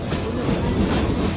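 Steady rumble and clatter heard from inside a moving commuter train heading toward Karjat from Mumbai, a continuous loud wash of wheel and carriage noise with no talk.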